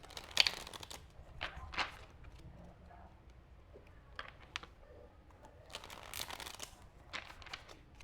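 A handmade DIY tarot deck being shuffled, soft, close papery riffles and card slaps in short bursts between quiet pauses.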